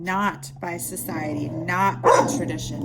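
A dog barks a few times in a home while a person keeps talking over it, the barks short and mixed into the steady speech.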